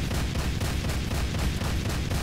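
A gun emplacement in C&C Renegade pounds out steady rapid fire, each heavy shot following the last at an even, relentless pace throughout.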